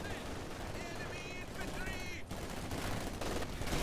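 MG42 machine gun fire from the Company of Heroes video game comes as rapid bursts beneath a commentator's continuous talk, with explosive game effects in the mix.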